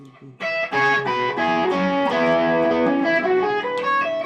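Electric guitar played through an effects unit with mild distortion, running up the G fingering of the major scale in the CAGED system, note by note and close, with no talking.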